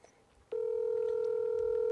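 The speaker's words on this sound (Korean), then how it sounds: "제가 한번 전화해볼까요?" A telephone tone sounds once a faint voice and rustle fade out, then holds as a loud, steady, pure dial tone for the rest of the clip.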